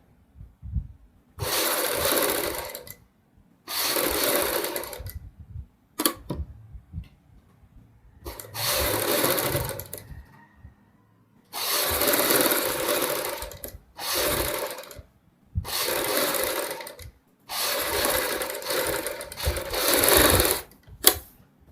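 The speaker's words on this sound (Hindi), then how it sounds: "तो उसके लिए हम यहाँ पे सिलाई शुरू करेंगे।" A sewing machine stitches piping around a kurti neckline in repeated loud whirring bursts of one to three seconds, separated by short gaps with faint handling noises, close and without speech.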